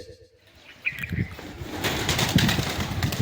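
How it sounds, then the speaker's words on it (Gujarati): Pigeons nesting inside an ancient stone well, about 10–15 feet deep, flutter their wings in short bursts that echo from within, with soft rustling throughout. "કબૂતર અંદર માળા બનાવીને રહીએ છે"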